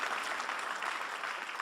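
An audience applauding at the Rubans Verts 2023 award ceremony in Haute-Vienne, a dense, steady wash of clapping from a crowd with no voices.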